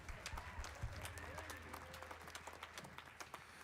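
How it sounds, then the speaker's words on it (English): An audience at a jazz and choir concert gives Bodie a round of applause, a quiet, distant patter of clapping with a low hum beneath it. "Let's another round of applause for Bodie."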